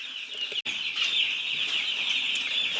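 Young chickens in a brooder peep continuously in a high, dense chorus, a close steady chirping with a brief sharp knock near the start.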